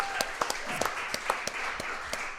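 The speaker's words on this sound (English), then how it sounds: "Let's give it up for Coach Southern" Audience applause for Coach Rodney Southern on a coach's show at a Texas barbecue restaurant in Huntsville: a steady, dense wash of clapping with a few sharper individual claps over about two seconds.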